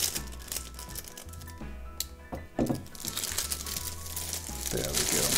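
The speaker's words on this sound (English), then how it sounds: "Cut open the plastic and just rip it off." Plastic packaging around a VKB STECS throttle system is cut open and ripped off, a dense run of close crinkling, tearing and rustling over a low background hum, growing busier toward the end.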